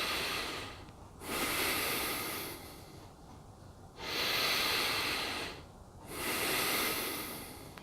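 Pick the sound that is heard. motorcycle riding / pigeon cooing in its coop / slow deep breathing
slow deep breathing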